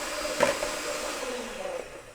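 A stand mixer whirs steadily at high speed, whipping vanilla-flavored chantilly cream in its bowl, a continuous close motor hum with no talk.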